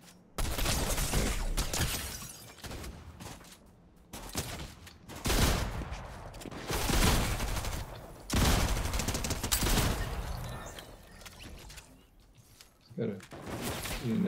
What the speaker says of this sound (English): Somebody else shooting at us now.